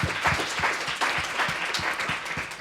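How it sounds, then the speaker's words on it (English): Guests at an evening dinner give the catering team a round of applause, many hands clapping in a steady, fairly loud crowd patter that holds evenly for the whole stretch. "let's just give a little round of applause to the catering team tonight for looking after us so well"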